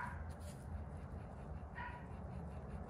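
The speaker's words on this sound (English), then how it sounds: "I hope you can hear that over the dog barking in the house" A dog barks a few times inside a house, muffled and somewhat distant, heard over a steady low rumble of background noise.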